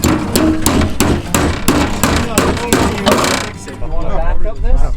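Hammer blows on metal on an off-road wrecker, a run of sharp ringing strikes in an uneven rhythm, loud and close, before the banging stops and a voice speaks.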